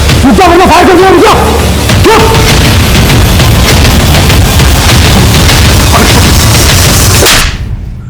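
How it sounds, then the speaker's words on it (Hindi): A gunshot fired in a dramatized Mumbai crime reenactment: one loud, booming broadband blast that fills most of the clip, with voices at the start. "फायर कर दिया।"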